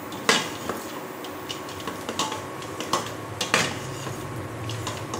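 Moong dal and ginger frying in a pan for a Bengali bottle-gourd dal. Close, irregular clinks and scrapes of a metal spatula against the pan sit over a low, faint sizzle.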